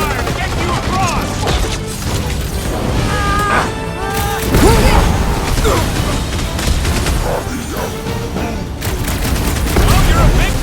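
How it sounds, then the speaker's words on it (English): Rapid gunfire in the Guardians of the Galaxy video game, a dense continuous fusillade of shots and crashes lasting throughout, loud and busy, with voices talking over the shooting. "I'll lay down some cover fire to get you across!"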